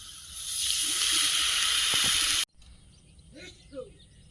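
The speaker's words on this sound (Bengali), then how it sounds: "মশলাটা রেডি হয়েছে এবার জল দিয়ে দেবো" Water pours into a cooking pot of melted tomato masala for tengra fish curry, a loud continuous rushing gush that stops abruptly, followed by quieter stirring and faint bubbling.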